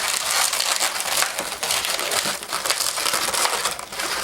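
Latex balloon being twisted into two pinch twists on a balloon-animal rifle barrel, a dense continuous squeaking and crinkling rubbing close up, steady and loud throughout with no talk.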